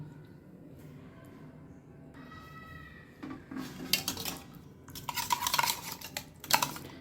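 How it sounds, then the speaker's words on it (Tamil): Curd being whisked in a bowl with salt for a brinjal-in-curd dish, heard as quick clinking and scraping strokes that grow louder and busier in the second half, with some soft kitchen clatter. "நான் விஸ்க் வச்சு நல்லா பீட் பண்ணி எடுத்துகிட்டு வரேன்."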